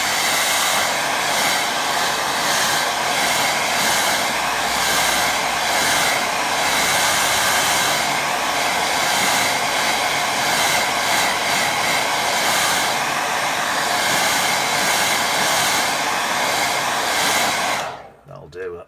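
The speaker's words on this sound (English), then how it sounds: "I'm going to give hair dryer a blast." A hair dryer blasts steadily over a watercolour painting of a little farm building, a loud continuous roar that runs unbroken for most of the stretch before cutting off abruptly near the end.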